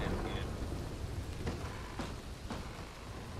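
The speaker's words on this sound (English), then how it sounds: "It's a bit loud out here. A lot of thunder." Steady rain outside in a video game, a dense even hiss with a few soft thunder rumbles and brief cracks, continuous and fairly close.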